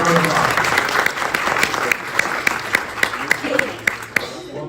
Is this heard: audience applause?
yes